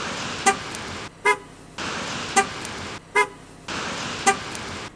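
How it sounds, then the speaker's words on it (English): A Pontiac Aztek's horn sounds in short, loud blasts, about three brief toots and two longer honks in an uneven pattern, heard from close by against a steady background hum. "You know, the horn on this one sounds different."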